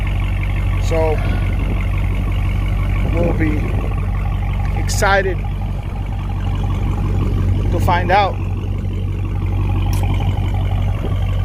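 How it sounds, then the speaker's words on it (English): A Dodge Charger Hellcat fitted with a GtHaus American Roar Racing Mopar exhaust idles with a deep, steady low rumble, while people talk nearby over it. "GtHaus exhaust, American Roar Racing, and it's the official Mopar exhaust"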